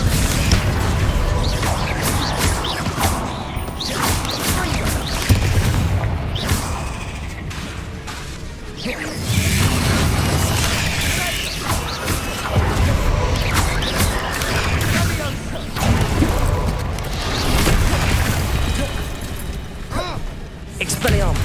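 Repeated Confringo blasting-spell explosions from Hogwarts Legacy, loud booms and crashes with whooshing casts, coming in dense bursts over continuous battle noise and spoken spell incantations.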